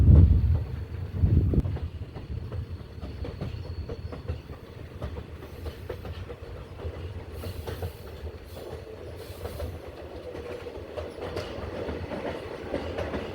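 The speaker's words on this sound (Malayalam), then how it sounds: "അങ്ങനെ ഒരു ടണലിലേക്ക് ട്രെയിൻ കയറുകയാണ് ഇപ്പം." A passenger train on the Kollam–Chenkotta line in Kerala runs into a short tunnel, heard from aboard as a steady rumble with clickety-clack wheel rhythm and a loud burst near the start.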